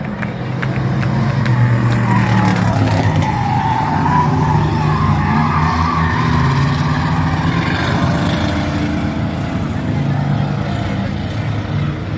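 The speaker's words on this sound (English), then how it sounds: "Watch that 78 car move the long course early in the season." Race car in the bomber class at a season-opening race, driving a long course with a loud sustained engine roar and tire noise that swells and shifts pitch throughout; an announcer's voice can be made out under the din.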